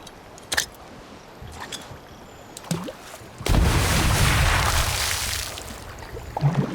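An explosion blasts fish out of the water in a scene from Wednesday: a sudden loud boom after quiet rustling, followed by a rushing roar that fades.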